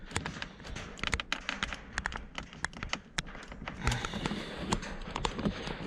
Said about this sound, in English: That sound is alright because it's plastic.